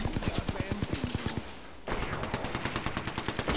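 Enemy squad gunfire in a video game: a fast, close automatic burst, then a short pause and a second stream of rapid shots, with a voice talking underneath.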